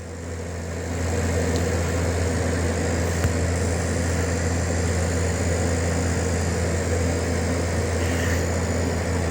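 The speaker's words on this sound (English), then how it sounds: "I got the motor to turn. It's kind of loud at the moment" Motor of a Magnavox Mark I Maestro record changer, not yet degreased, running loudly with a steady droning hum and whir that starts after a brief moment and holds at an even, close level.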